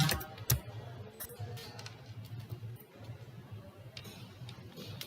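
Typing on a computer keyboard while a Python program is being written, a quiet run of scattered key clicks with a few sharper taps, close but faint, with a low hum beneath.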